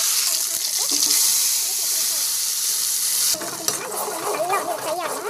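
Spices and ginger powder fry in oil for a fish curry: a steady, bright sizzle that turns rougher partway through as stirring scrapes and clatters in the pan, close and fairly loud.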